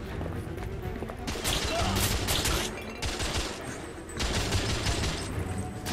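Gunfire in the video game The Order: 1886, with dense rapid bursts of shots and crashes layered over a continuous loud combat din, and voices talking at times.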